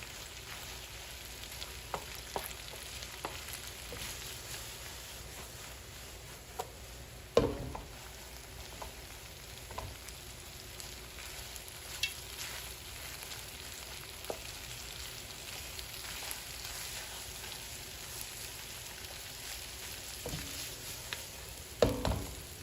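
Corned beef fries in an uncovered pan over raised heat with a continuous low crackling sizzle and occasional sharper pops and utensil knocks.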